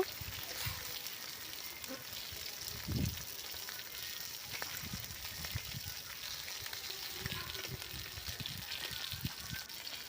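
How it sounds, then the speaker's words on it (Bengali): Fish frying in oil in a wok over a village stove, with a soft steady sizzle throughout, a brief louder burst of bubbling near the start as pieces are turned, and faint background noise. "ভালো করে উল্টে পাল্টে ভেজে নেব"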